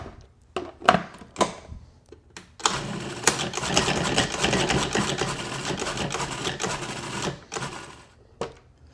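A food processor pulverizing black beans for a brownie cake: a few short pulses at the start, then a sustained dense whirring grind for about five seconds, followed by more short bursts, loud and close.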